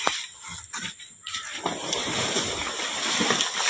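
Floodwater from the Sathanur dam flood in Villupuram district splashes and sloshes close by, starting quietly and swelling into a continuous churning rush.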